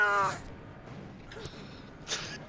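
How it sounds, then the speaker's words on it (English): A cat lets out one loud, short meow at the start, followed by faint background noise and a couple of small muffled sounds. "Loud cat noise."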